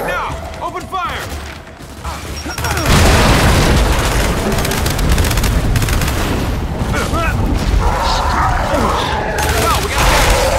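Gears 5 combat erupts into loud, continuous gunfire with heavy booming explosions layered on top, dense and close, after a quieter opening with some game voice chatter.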